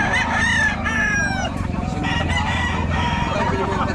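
Chickens clucking loudly up close, with a rooster crowing at the start and steady fowl chatter throughout.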